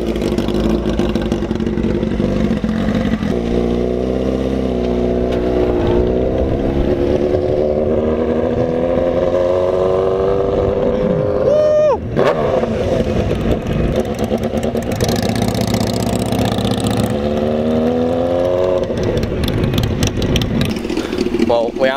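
A motorcycle engine, someone's bike, starts up and runs loudly close by, revving with rising and falling pitch over a steady rumble while people talk over it.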